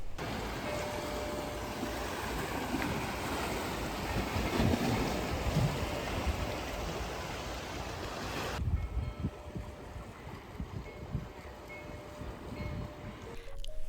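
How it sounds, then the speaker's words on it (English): Steady wash of ocean waves and wind across the whole stretch on the coast of Acadia, with a faint, distant boat horn sounding in the background. "You can hear the waves, and there was a boat in the distance honking."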